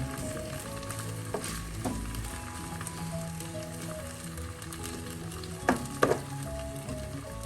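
Chopped garlic fries in a pan for chicken curry with a low, even sizzle. A few spoon scrapes and clinks stand out, louder near the end. It is close and fairly quiet, with no one speaking.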